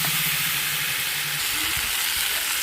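Vegetables fry in oil with ground ginger and cumin paste, giving a loud, continuous close sizzle with a brief low hum and a few faint stirring knocks.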